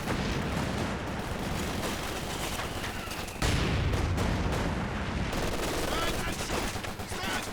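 Grenade fire in the video game Company of Heroes 2, heard within a dense, continuous battle din of rattling gunfire and heavy thuds, with a loud boom about halfway through.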